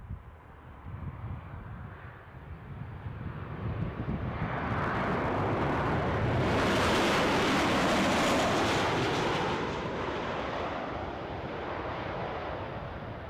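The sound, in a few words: Ryanair airliner on the runway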